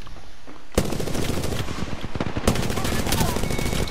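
Rapid video-game gunfire from a player firing while downed on the ground, loud dense bursts of automatic shots that start abruptly and continue almost unbroken, with a second sharp onset midway.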